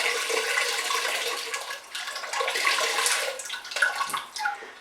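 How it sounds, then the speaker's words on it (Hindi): Water poured into a cooking pot holding lamb chops makes a continuous splashing, rushing flow that stays steady at moderate loudness throughout, with no voices. "तो ये इसमें थोड़ा पानी डाला"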